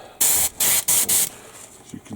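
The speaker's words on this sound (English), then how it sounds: "Spray it on right here." Airbrush spraying paint while cleaning out green from the needle during 1/72 Airfix B-17G model interior work, four short loud hissing bursts in quick succession, then quiet.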